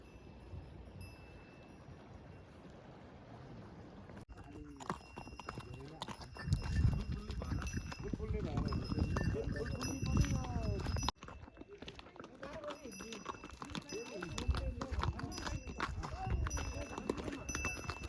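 Horse hooves clip-clop steadily along a trail at Dhorpatan, Nepal, as a rider travels on horseback, with voices talking over the rhythmic hoofbeats throughout.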